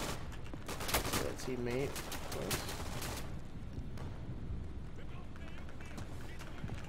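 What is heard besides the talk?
gunfire and bullets in the video game Day of Infamy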